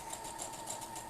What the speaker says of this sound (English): just while I'm sewing these together